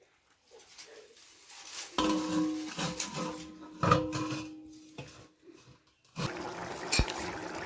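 An eggplant salad mixture gets stirred in a pot with clinks and scrapes of a utensil against metal, coming in uneven bursts separated by quiet gaps.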